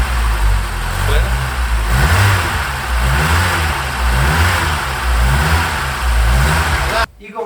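A Ford Sierra's engine runs steadily with a deep, pulsing rumble that rises and falls in repeated revs, loud and close, until an abrupt cut near the end, with speech faintly underneath.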